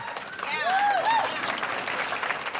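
An audience at a hearing-aid product launch event breaks into sustained applause, a broad wash of clapping swelling after a brief moment, with a whistle-like tone rising over the start.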